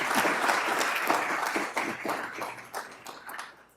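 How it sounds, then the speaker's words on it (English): Audience applause at a university law lecture, a dense wash of many hands clapping that swells early, then thins and tapers off toward the end. "Let's give him a round of applause."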